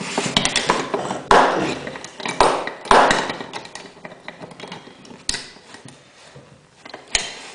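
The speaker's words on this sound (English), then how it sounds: "Just using a pair of pliers to break this stuff off." Pliers snap pieces off the cheap plastic handle of a kitchen knife, giving a few sharp, close cracks and clicks separated by quieter fumbling and creaking.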